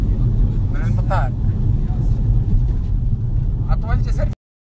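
Inside a moving bus heading from the airport in the Philippines, a constant deep drone of engine and road noise runs throughout, with occasional faint speech behind it before it cuts off abruptly.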